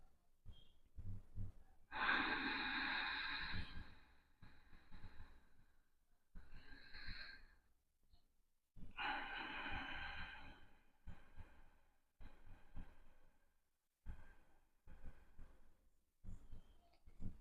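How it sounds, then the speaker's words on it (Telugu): Slow, deep breaths taken with eyes closed during meditation practice, several long airy inhales and exhales spaced by quiet pauses, close and fairly loud, with no talking. "కళ్ళు మూసుకొని దీర్ఘ శ్వాసలు 3 లేదా 5 దీర్ఘ శ్వాసలు"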